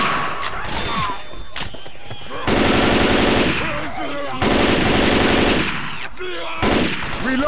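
Automatic weapon fire and shotgun blasts rattle in long bursts through a Left 4 Dead 2 match, loud and close, with brief pauses between volleys and voices talking over it.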